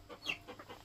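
Chickens cluck in short, close bursts at a rural home in a forest, a quick run of soft clucks heard alone.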